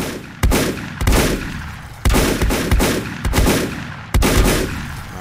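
Gunfire in the survival video game Volcanoids: a loud, close run of about seven sharp shots at a fairly steady pace, each with a short echoing tail, and no one speaking.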